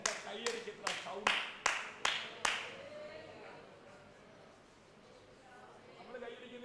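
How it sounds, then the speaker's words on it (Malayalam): Hand clapping, about seven sharp claps in a steady rhythm close by, fairly loud, then fading into quiet room tone with faint speech. "അതുകൊണ്ടാണ് എൻ്റെ കൈയടിക്കുന്ന സൗണ്ട്."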